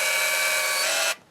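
Whirring zoom motor of a Pentax Zoom 90 compact film camera, a steady high-pitched mechanical whine heard close up for about a second before stopping abruptly.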